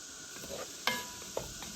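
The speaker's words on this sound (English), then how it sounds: "We're going to stir that flour in really good." Quiet stirring of flour into melted butter, grease and onions in a pot for potato soup, with soft scraping strokes, a faint sizzle and a couple of light utensil clinks, no voice.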